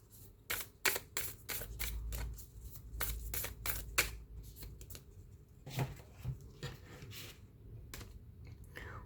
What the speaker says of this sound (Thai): เปิดไพ่นุพุทธานุภาพให้คุณหนึ่งใบนะคะ